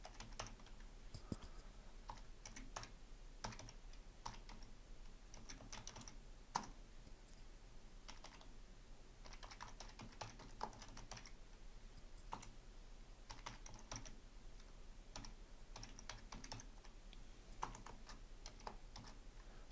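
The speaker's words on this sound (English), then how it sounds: "So it takes a little bit to type all this in, but we'll get this in." Steady, quiet typing on a computer keyboard while entering settings in HPE SimpliVity software: irregular runs of soft key clicks with brief pauses, continuing alone throughout.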